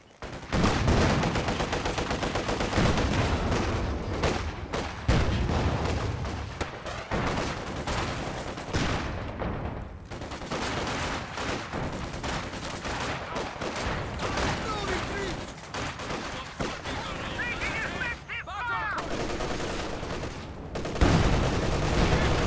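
An artillery barrage in the video game Company of Heroes 2 pounds away with dense, loud volleys of blasts and gunfire, keeping up a heavy rumbling roar nearly without pause.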